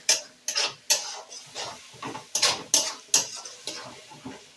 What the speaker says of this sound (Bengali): টক দইটা দিয়ে আবারও ভালো করে কষিয়ে নেব সমস্ত মশলাগুলোকে।